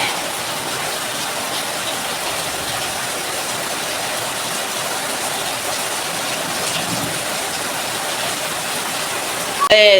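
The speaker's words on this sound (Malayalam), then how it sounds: "നല്ല മഴയാണ്" Heavy rain pours steadily for the whole stretch, a constant broadband hiss, with a short sharp sound right at the end.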